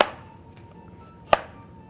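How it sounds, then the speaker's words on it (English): A knife chops through a zucchini on a board, two sharp separate cuts about a second apart, close and clear with quiet between. "Take off the ends and cut it into 3 sections"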